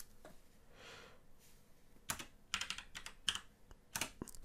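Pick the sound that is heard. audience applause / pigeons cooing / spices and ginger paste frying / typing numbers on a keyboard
typing numbers on a keyboard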